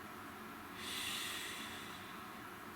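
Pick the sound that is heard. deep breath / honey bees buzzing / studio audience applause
deep breath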